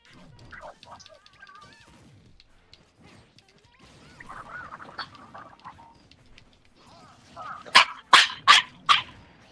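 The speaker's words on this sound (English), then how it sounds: "Stop barking in my ears, please." A dog barks loudly and close in a quick burst of four sharp barks near the end, after quieter scattered sounds and faint background voices.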